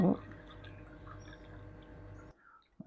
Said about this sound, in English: we're just going to pour that straight in